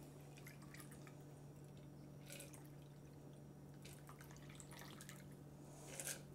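Last drops of a Negroni cocktail trickle through a julep strainer, giving soft, close dripping and splashing with a few brighter drips near the end, alone against a quiet background.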